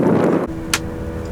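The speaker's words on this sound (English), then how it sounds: "So it's pretty windy here" Gusty wind buffets the microphone with a low rumble that eases after a moment, followed by a brief hissing burst.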